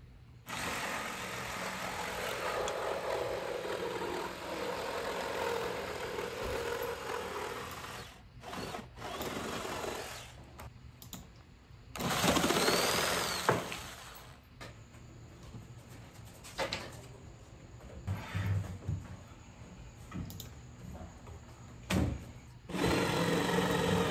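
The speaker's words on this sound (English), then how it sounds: "drew a line where I would need to trim off the excess legs, and then took out my jigsaw" A jigsaw cuts the excess legs off wooden trim with a steady buzzing drone that stops briefly several times, then starts again, loud and close with no talking.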